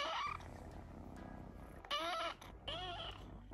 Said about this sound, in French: Lui, dès que j'arrête de le caresser, il miaule.